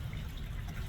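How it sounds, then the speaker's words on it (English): Water running steadily in a garden memorial fountain driven by an old reclaimed pump, a soft continuous splash and trickle heard close by with no voices. "the memorial fountain"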